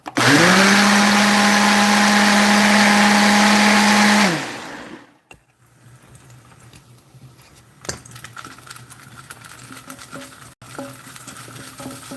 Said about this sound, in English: What is wrong with my blender?